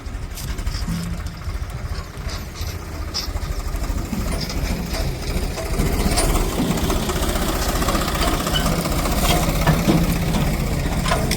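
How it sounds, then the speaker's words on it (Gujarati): A municipal tractor hauling garbage along a roadside chugs steadily nearby, growing louder and rougher about halfway through, with no voices. "એ ટ્રેક્ટર રોડની સાઈડમાં કચરો હલવી રહ્યું છે"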